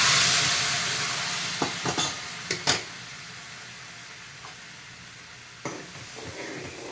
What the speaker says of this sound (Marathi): भाजून झाल्यानंतर आपल्याला शिजलेली डाळ त्या घालायची आहे ते आपण आता घालतो